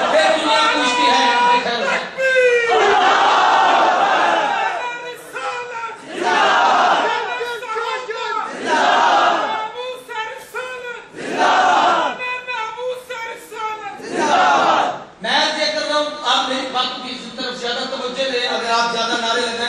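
A conference crowd in a Lahore mosque chants slogans in loud, surging waves, a lead voice calling and the mass answering in repeated roaring bursts with brief dips between.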